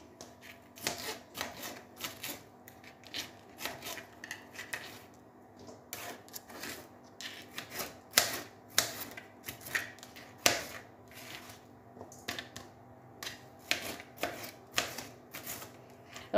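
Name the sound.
chopping leeks coarsely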